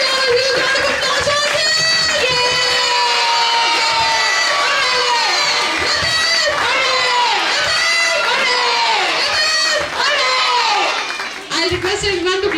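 Loud, sustained cheering and shouting from a large crowd of children at a school show, with excited pitched voices overlapping for the whole stretch and only a brief dip near the end.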